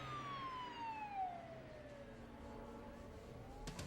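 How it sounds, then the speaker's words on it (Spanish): A police siren wails outside, one long falling tone sweeping down and fading into the distance over low traffic rumble. "Cuando escuchó sirenas de policía afuera, el hombre se puso nervioso y se fue."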